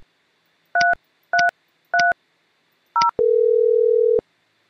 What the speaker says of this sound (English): Dial the warehouse phone number